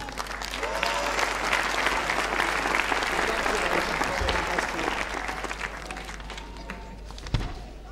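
Sustained applause from a large audience at a university graduation ceremony, a steady dense clatter of clapping hands that stays loud throughout and fades slightly near the end.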